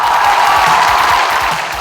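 An audience at a Faridpur music show applauds a woman singer, a dense wash of clapping that sounds close and loud for a couple of seconds before easing slightly at the end.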